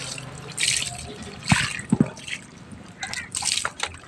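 Water splashing and trickling in bursts, with a few drips and short pours in between, fairly close.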